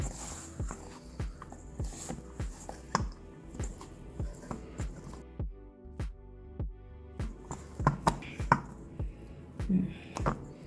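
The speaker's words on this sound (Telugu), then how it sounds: "సో ఇప్పుడు చేత్తో బాగా కలుపుకుందాం దీన్ని" Pizza dough for a Neapolitan pie is kneaded and squeezed by hand, making a steady series of wet, sticky slaps and squelches that come close and clear, with a few sharper knocks near the end.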